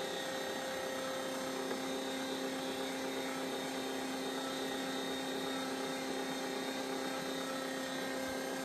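Meat grinder running wild game meat through a finer plate: a loud, steady motor whine with a constant mechanical drone throughout, no talking.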